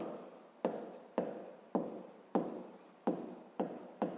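Pen strokes on paper during a fifth-grade math exercise, seven evenly spaced scratching bursts, close and quiet, with no talking.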